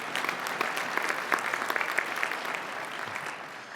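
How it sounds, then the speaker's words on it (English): Convention audience at the BCFED 2024 labour convention applauding themselves, a steady, full wash of many hands clapping at moderate distance, with no voices over it. "please give yourselves a round of applause"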